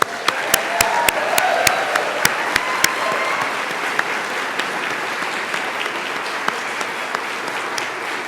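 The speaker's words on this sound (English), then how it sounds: "Let's start early and give them a round of applause." Audience applause fills a nursing pinning ceremony for the August 2023 class, a steady wash of many hands with a few sharp, close claps popping out early before it settles into an even, sustained clatter.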